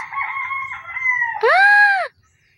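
A chicken in Minecraft gives a loud, close call with a lower note that rises into a sustained crowing squawk before stopping abruptly.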